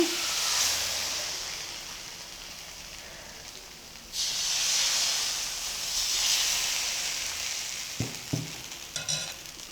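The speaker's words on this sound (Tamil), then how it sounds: "தவா சூடானோடனே இப்படி மெலிசா தோசை மாவு ஊற்றிடுங்க." Rava dosa batter is poured thin onto a hot tawa and sizzles loudly. The hiss is broad and steady, fades a little, then surges again, and a few light knocks come near the end. No voices are heard.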